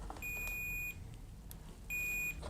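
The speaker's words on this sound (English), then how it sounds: "it beeps at me because there's a complete conductive path for the circuit" Multimeter in continuity mode beeping as its probes touch, two short clear high electronic beeps separated by a pause, close and alone over faint background hiss.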